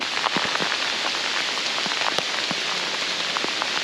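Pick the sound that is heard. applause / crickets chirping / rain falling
rain falling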